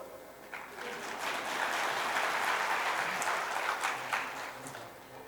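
Applause from a devotional katha audience swells soon after the start and holds steady at moderate volume, a dense patter of many hands clapping in a hall, then eases slightly near the end.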